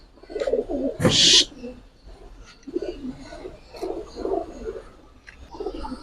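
Giribaz pigeons coo in soft low bursts through much of the stretch, with a brief loud rustle or flap near the start and faint chirps above, close and fairly steady.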